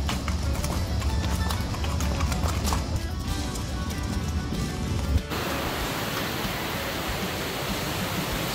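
Horse hooves clip-clop during a horseback ride in Mexico, a fairly close rhythmic clatter over rushing outdoor noise, after which the sound shifts to a broad steady hiss.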